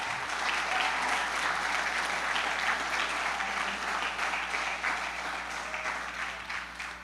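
A congregation applauds steadily and loudly for about seven seconds, a dense wash of clapping that tapers slightly toward the end.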